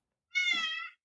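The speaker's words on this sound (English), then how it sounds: "Want to hear our cat?" A house cat gives a single clear, drawn-out meow of about half a second, close and fairly loud, with no talking over it.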